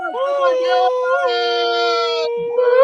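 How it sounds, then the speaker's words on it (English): A dog lets out a long, wavering howl, rising and falling with whimpering edges, loud and close amid an excited moment with no clear talk over it. "Dog's getting crazy."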